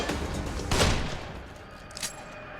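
Assault rifle fire in the horror video game The Evil Within: sharp bursts of shots with a heavier blast early on and another short volley later, set against a dark, rumbling background.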